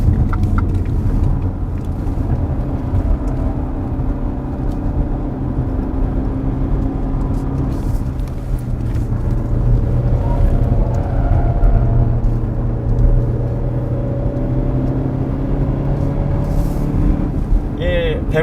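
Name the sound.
Renault Samsung XM3 car driving on test course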